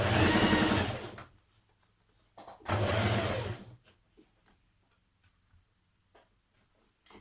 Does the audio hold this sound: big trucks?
no